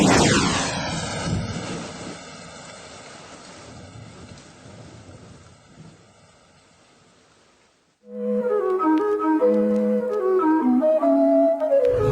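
An airplane roars overhead, loud and broad at first, its pitch sliding downward as it passes and fades over several seconds; music then cuts in abruptly.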